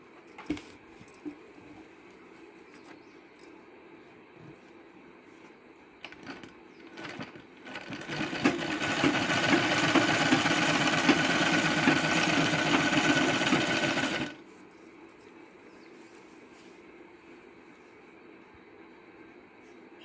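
A sewing machine stitching a fall onto a saree edge, starting with scattered clicks and short runs, then a steady loud whirring run of several seconds that stops abruptly, leaving quiet handling noises.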